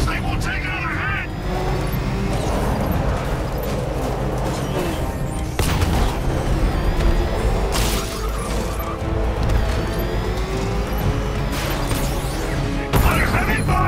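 Heavy gunfire in Batman Arkham Knight: a dense, loud, continuous barrage with crashing impacts and sharper bursts, and voices speaking over the battle.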